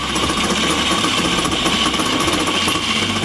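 Wood lathe cutting a tenon into a turned snowman head: a loud, continuous gritty scraping and rumble of the tool against spinning wood, close and unbroken throughout.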